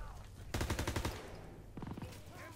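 Rapid bursts of gunfire from the World War II shooter Call of Duty WW2, a loud volley followed after a pause by a shorter burst, close and punchy with no talk.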